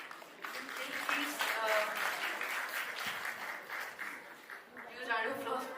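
Audience applause rises at a nursing graduation ceremony, a steady wash of clapping that holds for several seconds, with a voice talking over it near the end.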